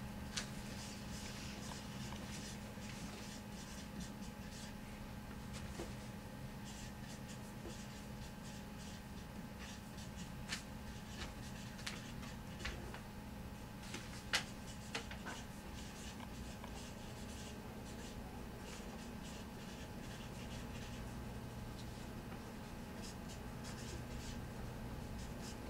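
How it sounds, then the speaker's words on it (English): Pen writing notes on paper, a long run of soft scratchy strokes with small taps, close and quiet over a low steady hum, no talking. "So we'll write that in our notes."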